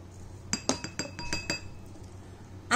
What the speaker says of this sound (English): Mix all the three ingredients in a bowl.